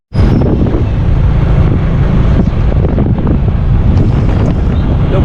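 Loud, constant wind noise buffets the microphone while riding pillion on an Ola bike taxi through Bhopal city, a rough rushing roar starting abruptly and continuing without pause.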